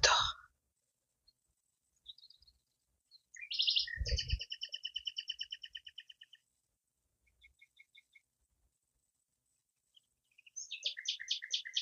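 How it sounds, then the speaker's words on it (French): Several different birds sing in a quiet outdoor setting: a rapid repeated trill, brief chirps, and another rhythmic call near the end, fairly close. "chants d'oiseaux différents"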